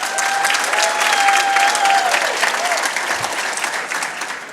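The audience at Bakersfield's 2025 State of the City event applauds its sponsors: a sustained wash of crowd applause, loud and full, easing slightly toward the end, with a faint tone and some voices beneath.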